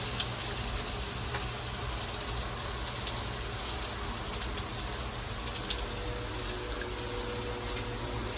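Garlic and onion sauté in a pan with a constant, even crackling sizzle that sounds much like steady rain, with a few faint stirring ticks over the hiss.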